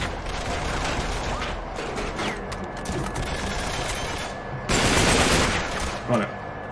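Rapid gunfire from a newly found weapon in the video game Uncharted 3 crackles in bursts over game ambience, with a loud, dense volley near the end; no speech.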